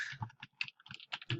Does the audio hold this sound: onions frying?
no